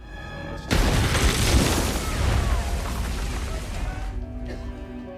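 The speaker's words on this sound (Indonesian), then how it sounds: "meledakkan bom yang menempel di tubuhnya" A bomb goes off in a film scene: a sudden loud boom followed by a long rumbling, crackling roar that slowly fades, with a brief tonal musical bed before and after.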